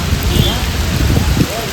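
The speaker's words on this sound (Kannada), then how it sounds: "ಮಳೆ ಬೇರೆ ಜೋರಾಗಿ ಬರ್ತಾ ಇದೆ." Heavy rain pours down steadily on Sagara road after a KSRTC bus and motorbike accident, a dense, continuous hiss with low rumbling underneath throughout.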